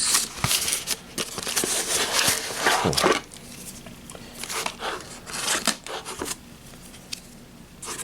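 Scissors snipping and cutting packing tape on an anime DVD package, a series of close, sharp snips and crinkly rustles of plastic and tape, irregular in rhythm, with no talking.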